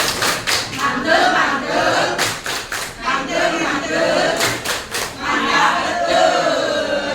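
Group of teachers and participants at a school workshop doing a rhythmic clap chant, sharp patterned bursts of clapping alternating with chanted voices, loud and close.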